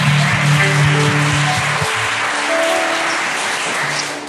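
Church congregation applauding during a Korean Sunday worship service, a broad steady wash of clapping over sustained low music or organ tones, fading slightly at the end.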